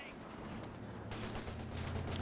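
Scattered gunfire and artillery in Company of Heroes 2, crackling shots and a heavier blast under a battle din, faint and steady, with a commentator's voice over it.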